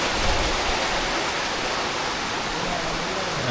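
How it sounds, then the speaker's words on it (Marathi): Rain begins falling over a Konkan village near Ratnagiri, a steady, dense hiss of close rainfall that holds evenly throughout without pause. "पाऊस आला बघा आता"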